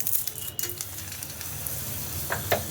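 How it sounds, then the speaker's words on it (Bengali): Two or three bay leaves sizzle in hot oil while vegetable pulao is started. The frying hiss is soft and continuous, with a few faint crackles and pops. "তেলটা গরম হয়ে গেছে। এখন এই তেলের মধ্যে দেবো আমি 2-3টে তেজপাতা দেবো।"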